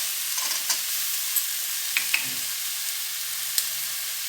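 Garlic dropped into a pan with coriander seeds, sesame and cumin for a mushroom curry, giving a steady faint sizzle with a few soft clicks and stirring scrapes, no talking.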